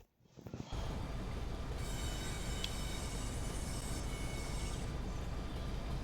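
Train Sim Pro USA video game train hauled by three locomotives, a steady loud rumbling rail drone that starts abruptly after a brief quiet moment and continues evenly, with no talk.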